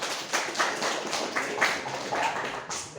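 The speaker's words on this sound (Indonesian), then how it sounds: "Tepuk tangan buat teman kalian." Scattered light hand clapping from a small classroom group of students, a handful of uneven soft claps at close range with no voices.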